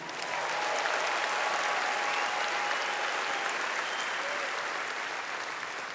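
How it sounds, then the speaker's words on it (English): Large crowd at a Rock and Roll Hall of Fame induction ceremony gives a long, steady round of applause, a broad roar of clapping heard from some distance with faint cheers under it. "They deserve a round of applause, please."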